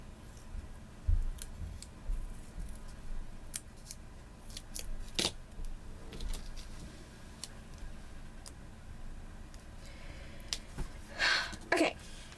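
Paper is trimmed with scissors in a quiet room, with a series of sparse, crisp snips and clicks spread across the stretch, a few louder cuts near the end.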